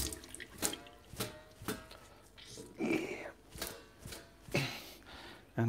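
A paintbrush is swished and tapped in a water jar while cleaning acrylic paint, making soft repeated splashing knocks at a steady rhythm, close and quiet.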